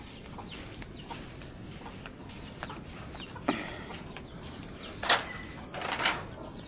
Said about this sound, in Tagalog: Gusto mo mag-alaga ng manok, Istoy?